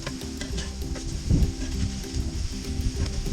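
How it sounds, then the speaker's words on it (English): Scallops sizzling on a hot Weber Q griddle as they are flipped, a steady close frying hiss with a brief scrape and louder burst partway through. "we're going to check on our scallops and give each one a flip"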